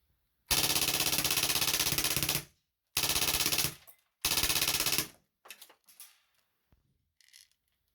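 A gun set to 1,000 rounds per minute fires three close, loud bursts of rapid rattling shots, a long run then two shorter ones, followed by scattered faint mechanical clicks.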